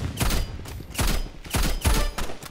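Video game gunfire in tap-fire bursts, roughly five sharp shot clusters spaced about half a second apart, loud and close with no talking.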